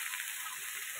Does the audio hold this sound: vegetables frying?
yes